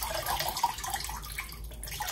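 Water pours and splashes out of a toy vehicle, with an uneven trickling and gurgling stream that swells and fades over about two seconds at close range.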